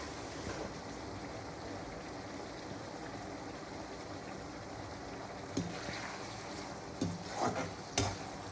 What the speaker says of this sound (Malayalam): അപ്പോൾ നമ്മുടെ ഉള്ളി നല്ലോണം വറവാവട്ടെ